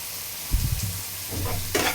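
Mashed dried chapa shutki fish bhorta frying in mustard oil, with steady sizzling and a few louder stirring scrapes and clacks of a utensil, close up and without talk.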